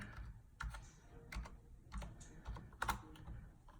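Someone types a property address into a computer form on a keyboard, a quiet run of irregular key clicks with a few louder taps and no talk.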